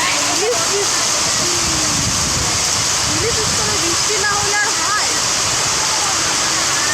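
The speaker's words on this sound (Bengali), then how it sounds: "বোটে ফেরার পর এই জোরে ঝমঝমে বৃষ্টি শুরু হয়ে যাচ্ছে" Heavy rain pours down steadily around a boat in the Sundarbans, a dense, loud and constant wash of water, with voices talking over it throughout.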